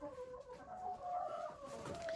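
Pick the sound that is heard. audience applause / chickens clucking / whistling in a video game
chickens clucking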